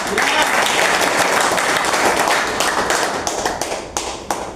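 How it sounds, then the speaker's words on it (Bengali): An audience claps for a leader standing before them at a gathering, dense continuous applause that thins into scattered separate claps near the end. "আমাদের সামনে কিন্তু দাঁড়ানো লিডারের জন্য একটা করতালি হবে না?"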